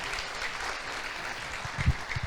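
A church congregation applauds in a broad, steady wash of clapping, with a few louder, closer claps near the end.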